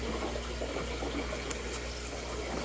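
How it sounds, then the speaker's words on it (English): Water bubbles and trickles steadily in an outdoor aquaponics system, a constant low wash with a few brief brighter splashes, no talking. "Okay, I hear bubbles."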